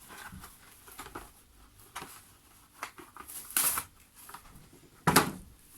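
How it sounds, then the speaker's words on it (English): Cling film ripped off a roll for a wax-resist painting of dandelions and purple slate: two short, crackly tearing bursts a couple of seconds apart, fairly close and with no one talking, amid light handling noises. "I'm going to rip a piece off"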